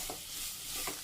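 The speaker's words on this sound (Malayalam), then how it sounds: "ഇതിലേക്ക് സവാള കട്ട് ചെയ്ത് വെച്ചിരിക്കുന്നത് ഇട്ട് കൊടുക്കും." Chopped onions for an aloo gobi hit a hot pan and give a soft, brief sizzle and frying hiss, faint and short, with a little stirring noise.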